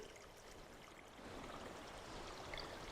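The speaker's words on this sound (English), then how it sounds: "Above that spring I just showed you, the water is still flowing, so there's another spring up here." Spring water flowing in a mountain forest of lodgepole pines in Montana, a faint, steady trickling rush with no voices over it.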